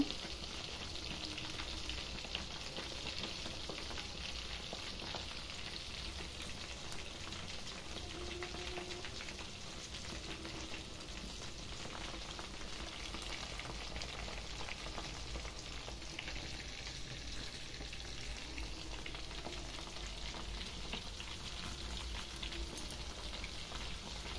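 Food roasting on a wire mesh set over a gas flame, giving a steady, soft hiss and faint crackle that runs unbroken and fairly quiet throughout.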